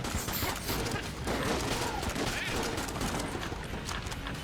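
Busy, continuous gunfire from the Void Shotgun in the video game Enter the Gungeon, with dense overlapping shots and mechanical clatter filling all of a loud stretch.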